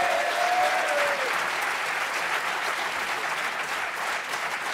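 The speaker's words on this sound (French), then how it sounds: "Un tonnerre d'applaudissements, s'il vous plaît, pour Muriel Bouquin, Nathalie Departout et Aurélie Branjon" Steady, loud applause from a crowd at an evening event for guests on stage, sustained throughout with a brief faint whistle-like tone near the start.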